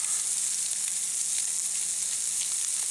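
Canned ham and hash browns fry in grease topped up with cooking oil, giving a steady, close, loud sizzle that holds evenly from start to finish with no talk over it.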